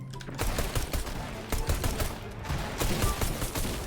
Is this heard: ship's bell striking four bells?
no